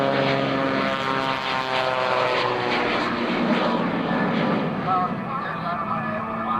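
A propeller stunt airplane at an air show drones loudly and steadily, its engine note sustained and slightly wavering as it passes nearby overhead, with no pause in the roar.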